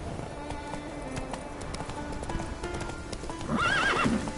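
Roach the horse gallops with rapid clip-clopping hooves in The Witcher 3, then lets out a loud, rising whinny near the end, close and prominent.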